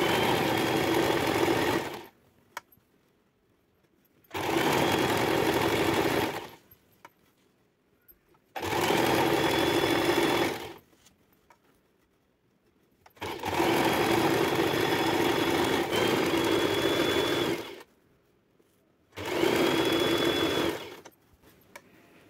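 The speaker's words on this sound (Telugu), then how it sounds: "థ్రెడ్స్ని బయటకు రానియకుండా నీట్ ఫినిషింగ్తో స్టిచ్ చేయాలి." A sewing machine stitches a fall onto a saree with a heavy piping border, running in five loud, steady bursts of a few seconds each with short quiet pauses between them.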